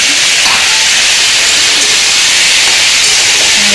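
Cabbage and potatoes drop into a hot pan for a Bengali drumstick-potato curry, setting off a loud, continuous, close hiss of sizzling that holds steady throughout.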